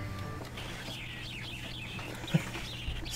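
Glitched bird calls from the Harvest Moon DS video game come as wavering, warbling chirps over a low steady hum, with one brief sharp blip near the end.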